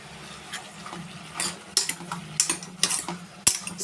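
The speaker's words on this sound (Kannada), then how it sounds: "ಈ 3 ಒಂದ್ಸರಿ ಈ ಥರ ಮಿಕ್ಸ್ ಮಾಡ್ಕೊಳ್ಳಿ." Brinjal and potato pieces being stirred in a pot for sambar give quiet scraping and clinking, with irregular sharp ticks of the spoon against the metal over a faint low hum.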